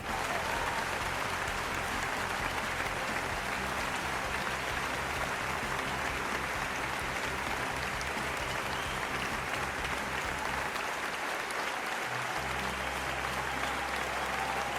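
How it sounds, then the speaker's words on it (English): Continuous clapping fills the whole stretch, a dense, even roar of many hands that never pauses, with a low steady hum running underneath. "I'm going to start clapping right away"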